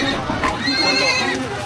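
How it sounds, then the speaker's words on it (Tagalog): Horses neighing at an illegal horse fight in Davao Occidental, with shrill whinnies rising over a loud, crowded din of spectators shouting throughout. "maririnig na ang halinghing ng mga kabayo at malalakas na hiyawan ng mga parokyanong nanonood sa brutal na sagupa ng mga hayop"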